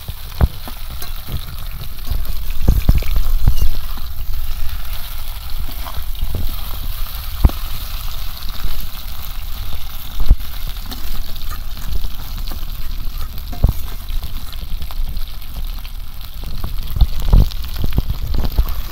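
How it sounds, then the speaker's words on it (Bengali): Okra frying in hot oil in a pan, a loud steady sizzle with crackling pops and occasional stirring scrapes throughout. "এবার ঢেঁড়সগুলো ভালো করে এরকম তেলে ভাজবো"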